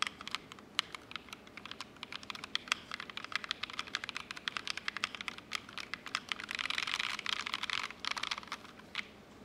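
Steady rapid typing on a stock mechanical keyboard with an Alice layout, a dense stream of close, crisp clacks that keeps going throughout and grows a little louder and busier near the end, with no voices over it.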